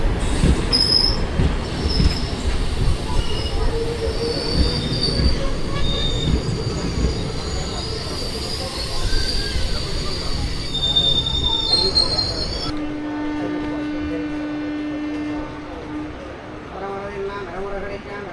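A passenger train leaving Angadipuram for Thrissur squeals on the rails: high, sustained wheel screeches ride over a heavy rolling rumble, then the train eases into quieter running with tonal hums.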